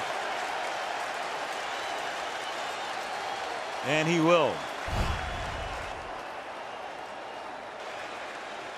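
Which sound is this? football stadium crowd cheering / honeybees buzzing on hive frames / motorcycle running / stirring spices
football stadium crowd cheering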